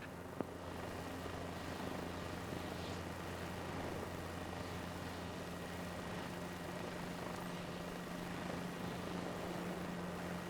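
A helicopter hovering low at about two feet in Microsoft Flight Simulator 2024, a steady droning rotor and engine hum with a constant low tone, quiet and unbroken and free of talk.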